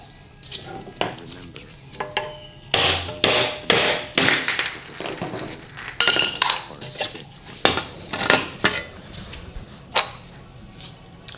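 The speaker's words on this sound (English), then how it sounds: "hammer all the way around and it'll pop right off" Sharp metallic strikes ring out in uneven bursts, a hammer repeatedly tapping a screwdriver around a Mercedes-Benz 190E subframe bushing, loud and close with brief pauses between volleys.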